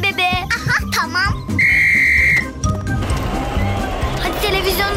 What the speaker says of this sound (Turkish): Çal düdüğü bebe.